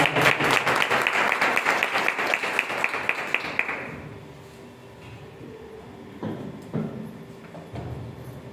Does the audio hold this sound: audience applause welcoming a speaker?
yes